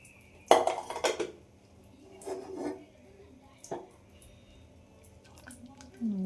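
A pot of boiled toor dal is opened, giving a few metallic clanks and scrapes of the lid against the vessel, close and moderately loud, with quiet gaps between.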